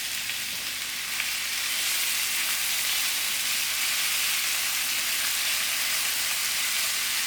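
Minced meat frying in a pan for shepherd's pie, a steady, dense hiss of sizzling fat that holds evenly from start to finish, close and fairly loud with no voices.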